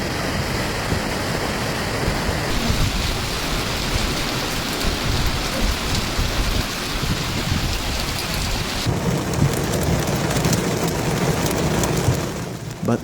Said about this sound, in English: heavy storms also struck Bucharest, especially Sector 3, where continuous lightning and downpours disrupted daily life.